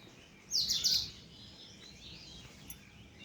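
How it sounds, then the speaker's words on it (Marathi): A brief burst of bright sparrow chirping, a quick cluster of high tweets, then quiet outdoor air. "चिमण्यांचा बघा किलबिलाट सुरू आहे"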